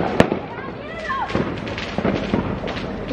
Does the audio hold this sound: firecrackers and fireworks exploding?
yes